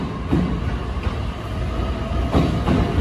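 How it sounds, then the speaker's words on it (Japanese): An out-of-service train departs track 3 at JR Katsuta Station, rumbling steadily with low mechanical noise and a few clunks at moderate volume without voices. "3番線、回送列車が発車します。"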